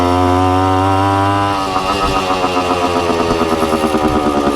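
A Suzuki TC-90 motorcycle engine idles loud and close, first a steady buzzing drone, then settling into a rough, pulsing putter with a faintly uneven rhythm, running alone with no voices.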